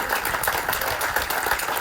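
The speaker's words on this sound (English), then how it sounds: "So please give them an applause." Dense audience applause at a healthy-future celebration event, steady continuous clapping from a crowd, fairly loud and uninterrupted.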